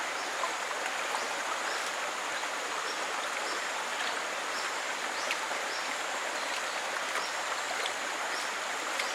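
Water is poured slowly through a fine metal sieve to rinse a macrozoobenthos sample into a plastic bag, giving a steady, continuous trickling wash that runs unbroken throughout without any talk.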